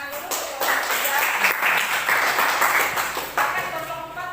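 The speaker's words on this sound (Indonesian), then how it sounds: "Tepuk tangan dulu" Classroom students clapping during a lesson, a fairly loud, continuous burst of applause that swells and shifts in density for several seconds.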